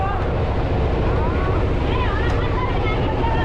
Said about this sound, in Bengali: ওয়াও, একটা স্পিড বোট যাচ্ছে